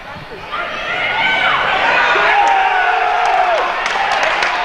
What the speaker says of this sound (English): Beekmantown Varsity's joined us over to our right, cheering on their JV.